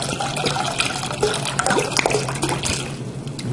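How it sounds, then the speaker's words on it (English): Mulled mead poured into a pot, a close, continuous splashing gurgle of liquid with bubbly bursts, loud and steady in a slightly echoey room. "So we're going to pour it in the pot."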